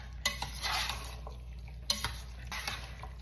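A spoon mixing seasoned salt, cumin and smoked paprika into chili in a pot, with several sharp scrapes and clinks against the pot over a low background hum, close and fairly quiet.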